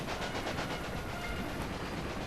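Train pulling away in the Railway Empire video game, loaded with passengers and mail, a steady rolling rumble with faint rhythmic clatter running throughout, fairly loud, with no talk over it.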